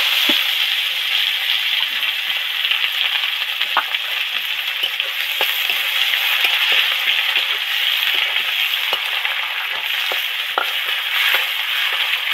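Steady sizzle of chopped onion frying in hot oil after fish, with scattered small pops and crackles, close and continuous throughout.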